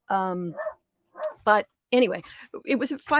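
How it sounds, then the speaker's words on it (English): A dog on a boat moored at a marina dock barks in short, sharp bursts at neighbours arriving at the boat next door. The barks are close and loud and mix with a person talking steadily nearby. "that's my dog warning us about our neighbors at their boat next door"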